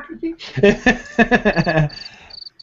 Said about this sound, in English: Bueller? Anyone? Crickets?